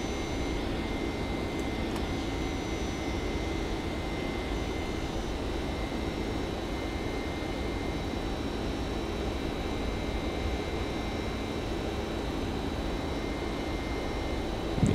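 Boeing 767 cockpit in the X-Plane 11 flight simulator climbing after takeoff, a steady loud broadband engine and airflow roar with a faint whine, unbroken throughout with no talking.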